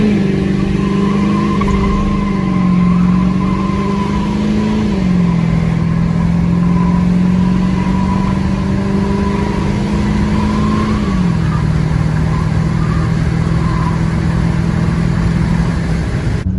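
An L5P Duramax diesel pickup truck engine is held at full throttle, a loud, sustained droning roar with a slight pitch dip midway, then steady again, with no voices.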